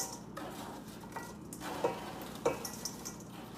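Bread goes into a pan where celery, onion and garlic are sautéing for a low-carb Thanksgiving side. A quiet, steady sizzle carries a few sharp clinks and scrapes of stirring.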